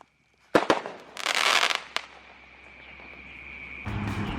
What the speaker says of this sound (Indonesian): Nyumet Mercon Basoka Roman Candle 50 shot melawan 100 shot hari ini